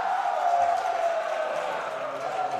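A crowd at a high school basketball game between Tolsia and Man cheers after a blocking foul, a broad, sustained roar of voices from the home stands, fairly loud and steady.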